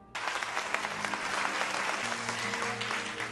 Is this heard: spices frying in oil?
no